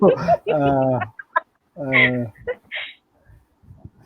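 A person imitates bird calls, producing a series of clucking, rooster-like whoops and squawks in bursts, loud and close, with short pauses between them.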